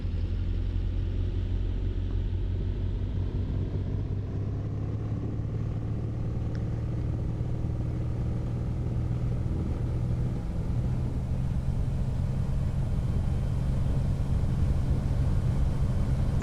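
An SF260 aircraft engine at full throttle on the takeoff roll, a loud, steady droning roar with a slowly rising pitch, heard close from inside the cockpit.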